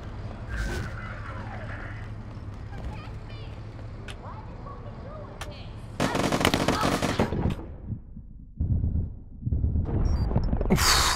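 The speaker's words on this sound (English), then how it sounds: "He was actually like shooting the floor whilst reloading." Rapid automatic gunfire from a shooter game, a player spraying bullets into the floor while reloading, with bursts of dense shots under game noise and background voices.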